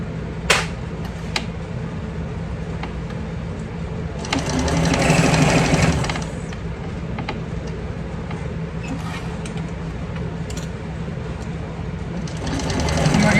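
A sewing machine stitching and backstitching a handbag seam, its motor whirring in bursts with a louder run in the middle and another at the end, short clicks between, and faint background noise.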